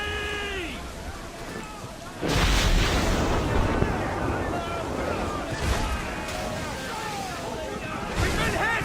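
Ship cannon broadside fire in Assassin's Creed 4 Black Flag: heavy booming cannon blasts over rushing sea wind and waves, loud and close, with shouted crew voices between the volleys.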